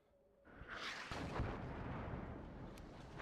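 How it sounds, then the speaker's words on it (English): Artillery fire in the real-time strategy game WARNO: a deep, rumbling barrage swells after a quiet start and rolls on loudly, thick with low booms. "Artillery"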